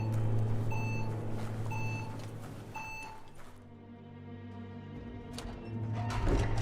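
In the video game Biomutant, a sharp electronic beep repeats three times at an even pace over a low droning hum, followed by a quieter stretch with softer tones.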